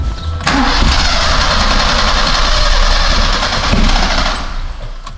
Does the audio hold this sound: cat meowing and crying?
no